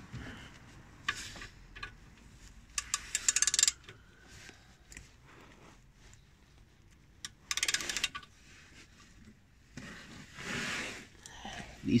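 Hand tools working on VW Polo 1.4 TDI drive shaft bolts, scattered metallic clinks and ratcheting clicks in short irregular bursts, close by with quiet gaps between.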